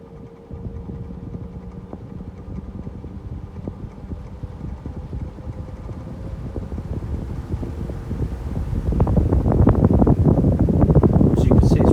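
A 1980s Xpelair fan runs with a steady whirring hum that grows louder and rougher near the end as it speeds up.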